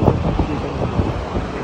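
Strong cold wind blustering outdoors on a winter street in Canada, loud buffeting gusts hitting the microphone in uneven bursts, close and rough, with no clear talking.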